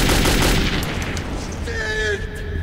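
Rapid gunfire in a Metro video game, loud sustained bursts with echoing booms near the start, fading under a tonal in-game sound toward the end.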